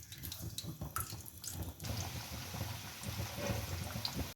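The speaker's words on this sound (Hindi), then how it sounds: "अब इसके अंदर पकोड़े डाल दें।" Pakoras dropped into hot oil hiss and sizzle with a steady bubbling crackle, close by, with no talk.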